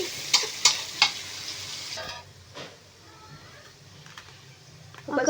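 Curry leaves and salt fry in a pan for fried rice as a spoon stirs them, giving a few sharp scraping clicks over a soft, steady sizzle.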